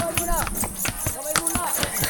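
A strong draft horse hauling a heavy load uphill, its hooves clip-clopping in a steady, loud rhythm on hard ground while someone talks over it.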